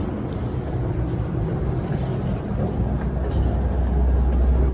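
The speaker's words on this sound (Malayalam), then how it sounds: "ട്രെയിൻ ഇപ്പോൾ പോകുന്ന സ്പീഡ് കാണുന്നില്ലേ?" An ETS Platinum electric train in Malaysia runs at about 135 km/h, heard from inside the carriage as a steady, loud, low rumble with continuous wheel and track noise that swells slightly near the end.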